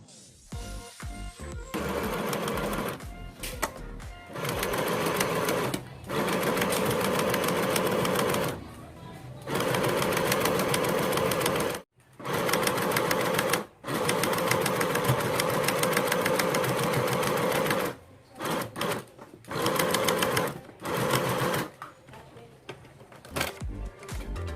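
Sewing machine stitching a straight hem on the bottom of a thrifted bustier top, running in bursts of rapid mechanical whirring with short pauses between, close and clear.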